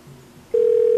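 A telephone ring tone starts suddenly midway, a loud, steady electronic tone that continues to the end after a faint quiet stretch.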